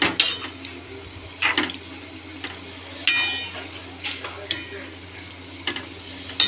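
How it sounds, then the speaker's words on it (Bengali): Utensil scraping and clinking against a pan as Maggi noodles are stirred, with irregular bursts of metallic taps and scrapes, close and moderately loud. "কিছুক্ষণ নাড়িয়ে নেবে ম্যাগিটা"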